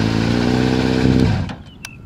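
A motorcycle with a keyless start system runs with a loud, steady close engine note for over a second, then cuts off, leaving faint clicks and a brief electronic beep.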